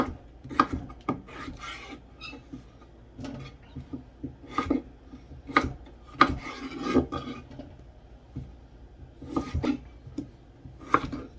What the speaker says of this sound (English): Chop up the potatoes.